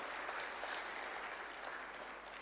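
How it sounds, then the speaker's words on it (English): Steady applause from a lecture audience in Dar es Salaam, many hands clapping in a dense, even wash that holds for the whole stretch without voices. "A round of applause, please."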